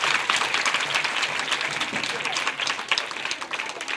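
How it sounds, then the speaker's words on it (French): Schoolchildren at a primary school in Abobo clap loudly together in steady, dense applause that fills the whole stretch, with some voices mixed in. "Applaudissez pour vous encore."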